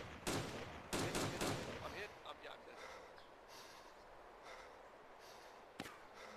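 A few gunshots in Arma 2 DayZ burst out close together early on, then quieter ambience follows until one more sharp shot near the end; no one talks.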